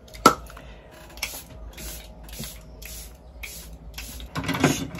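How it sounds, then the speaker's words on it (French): Several short hissing bursts of a favourite makeup setting spray, each a quick pump, close to the mic in a quiet room with a little handling noise between them. "Je suis obligée de mettre mon spray favori"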